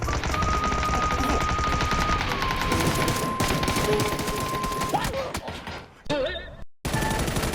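Rapid video game gunfire, dense bursts of automatic shots that run almost continuously, loud and close, with a couple of brief drops near the end.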